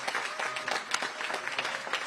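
Audience applause at a political briefing held by Pennsylvania Governor Josh Shapiro, a steady patter of many hands clapping, fairly faint and continuous for a couple of seconds.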